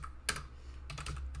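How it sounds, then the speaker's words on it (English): Quick bursts of key clicks on a computer keyboard during a speed typing game, a short tap followed by a faster flurry of keystrokes, close and fairly quiet. "it's a speed typing game, so your goal is to type the words as fast as you can that show up"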